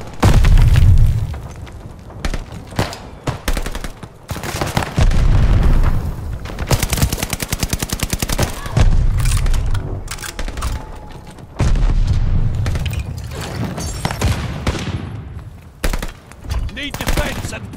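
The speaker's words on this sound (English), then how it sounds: "Allies called a bombing run." Booming bombing-run explosions and bursts of gunfire in Call of Duty Vanguard multiplayer, loud and repeated across the clip, with heavy low rumbling blasts interleaved with rapid shots.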